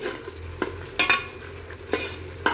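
Mutton biryani masala with green chillies frying in oil as a spoon stirs it, soft sizzle under several sharp scraping clacks spaced through the stretch, fairly close, with no voices.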